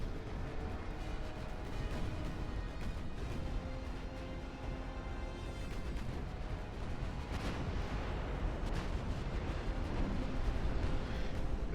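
Warship guns firing in the Ultimate Admiral Dreadnoughts naval video game, with pre-dreadnought battleships in a battle: dense, continuous rumbling booms and overlapping blasts that hold steady and loud throughout, with no speech.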